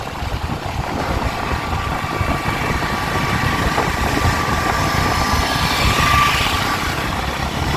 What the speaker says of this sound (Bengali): আশি উঠে গেছে বাইকের স্পিড